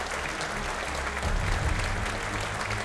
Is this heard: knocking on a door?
no